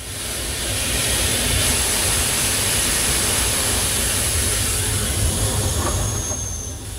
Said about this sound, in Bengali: এখন দেখেন কিভাবে ট্রেনকে থামানো হয়।